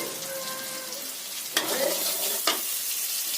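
Cumin seeds tipped into hot oil in a pan for a Bengali dish, sizzling steadily close up with a sharp clatter and stir around the middle and again later, no talking.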